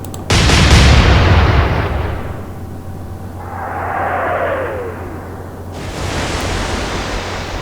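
Naval gunfire in the Atlantic Fleet war game: a loud broadband blast of ship's guns, followed by a rushing shell whistle and a second burst of rumbling noise, with no talk over it.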